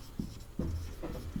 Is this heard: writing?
yes